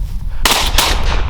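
Shotgun blasts during an Alabama dove hunt, two loud sharp reports a fraction of a second apart, close and outdoors, with no talking.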